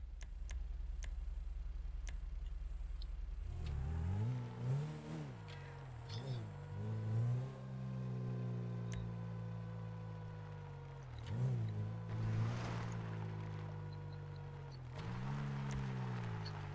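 A video-game off-road car engine revs repeatedly, pitch sweeping up and down in several surges over a low idle hum, with faint ticking beneath.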